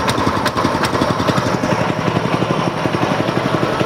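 A small reaper attachment engine, started with a recoil pull starter, chugs loud and close in a fast steady putter with a few sharp clanks near the start.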